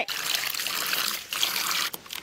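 Fresh water pours in a steady, close trickling stream while preparing a village chicken recipe, running continuously with a brief break near the end.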